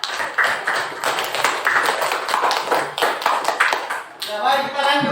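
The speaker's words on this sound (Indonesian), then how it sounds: "Tepuk tangan dulu kelompok 2" A classroom group claps hands for group 2, a few seconds of brisk, fairly close clapping that stops just before someone resumes talking.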